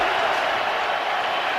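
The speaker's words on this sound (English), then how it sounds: "The crowd's going crazy." An NFL stadium crowd at a Bears–Browns game roars in a dense, steady wash of cheering and applause, loud and continuous throughout.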